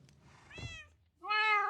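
A cat in the video game Minecraft gives two clear meows, a softer one first and a louder, brighter one after a brief pause, with faint background noise.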